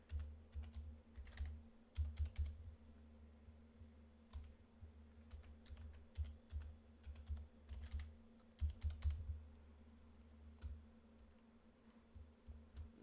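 Keyboard typing while setting a root password during a VMware ESXi 7 installation, with quiet bursts of key clicks coming in uneven runs over a steady low hum, and no voice.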